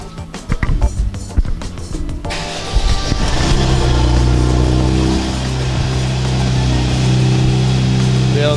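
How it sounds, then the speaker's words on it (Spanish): A hard-top convertible car roof closes with a few sharp mechanical clicks and knocks, then a steady, fairly loud motorized whir and hum that continues to the end, with voices talking over it. "Joaco, escúchame, ¿podemos elegir uno de los autos y que me cierres la capota?"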